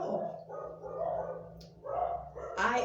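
Dogs bark and yip at a distance, several scattered barks over a low hum, with a person's voice briefly heard alongside.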